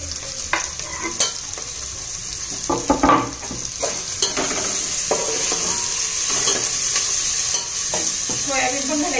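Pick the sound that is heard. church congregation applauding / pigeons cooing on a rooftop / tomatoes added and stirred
tomatoes added and stirred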